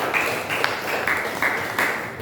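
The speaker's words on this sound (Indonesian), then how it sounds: "tepuk tangan buat Maisa" Classroom applause for a student: a dense, steady patter of many hands clapping together, moderately loud and continuous for a couple of seconds with no talk over it.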